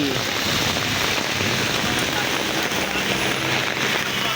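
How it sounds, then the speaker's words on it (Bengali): Heavy rain falls across the city streets of Mirpur in Dhaka, a dense, continuous hiss of drops pattering on surfaces, loud and unbroken from start to finish. "মিরপুরে আজকে বৃষ্টি"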